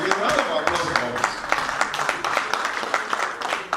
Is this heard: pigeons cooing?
no